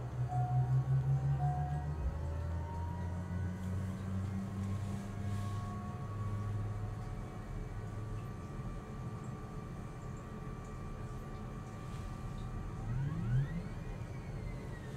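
A steady turboprop engine drone of a Lear Avia Lear Fan 2100 in Microsoft Flight Simulator, with tones that rise and shift, winding up gradually toward a higher whine near the end, with no speech.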